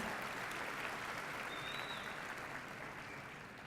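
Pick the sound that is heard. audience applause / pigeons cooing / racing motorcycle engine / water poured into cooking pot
audience applause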